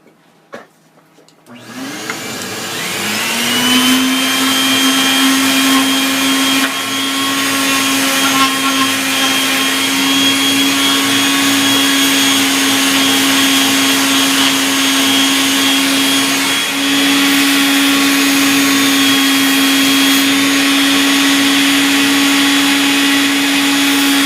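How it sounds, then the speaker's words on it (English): A palm sander connected to a downdraft table spins up after a click and then runs as a loud, steady whine and whir, with no talking. "now I got my little downdraft table hooked up. My palm sander."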